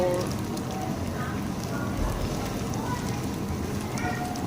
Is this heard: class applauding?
no